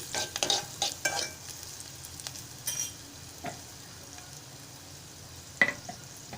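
A Malvani masala mixture for a matar samosa filling is stirred as it fries in a pan, with a few sharp scraping strokes early on, then quieter scattered scrapes over a soft, low sizzle.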